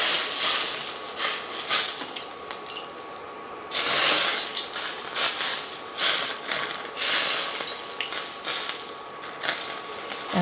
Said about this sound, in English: now you pour the boiling oil. You see, this is how it sizzles.